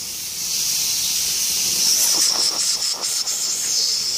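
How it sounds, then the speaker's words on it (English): Steady, fairly loud sizzling hiss of ribeye steaks searing on a hot grill, with brief crackles and spits partway through. "listen at that sizzle, baby. Listen at that sizzle. Ooh, look at these rib eyes."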